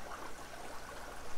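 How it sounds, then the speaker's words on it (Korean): Water trickles from an aquarium air-hose siphon in a thin, continuous stream, fairly close and steady, with no voices. "한번 당기시면 물이 졸졸졸 나옵니다."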